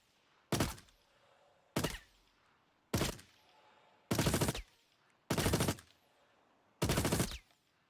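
Behring FS9 light machine gun in Star Citizen fires six sharp bursts, each a rapid automatic rattle lasting under a second, spaced by short quiet gaps, loud and close with no talking.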